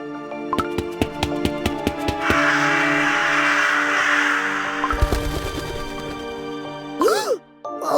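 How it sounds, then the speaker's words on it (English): Cawing birds in the Cookie Run Kingdom game, a few harsh calls rising over a music score with chimes and a sustained noisy wash, set in a jungle scene. "Did the birds scare you?"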